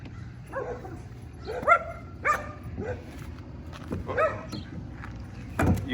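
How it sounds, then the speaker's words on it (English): Several dogs bark in short repeated bursts near garbage cans while a recycling truck is about, some sharp and close, others fainter, with background rumble and a brief spoken word. "The dogs were barking on us"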